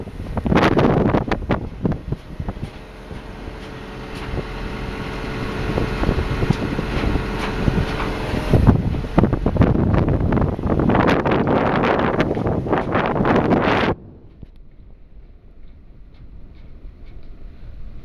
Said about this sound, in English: Strong following wind.